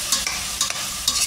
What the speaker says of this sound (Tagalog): lalagyan na po natin yung mushroom. Sliced mushroom po yun.